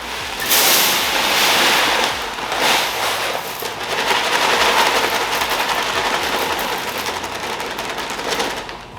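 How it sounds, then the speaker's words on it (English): Grain pours into a whiskey mill hopper in a steady broadband rush and hiss, loud and close, with bursts of rattling at the start and scattered patter throughout, and no talking. "So let's go get some grain, dump it in here,"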